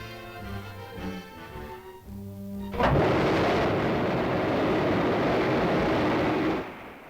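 A research rocket launches in New Mexico: soft music gives way to a sudden loud, broad roaring rumble that holds steady for about four seconds before cutting off.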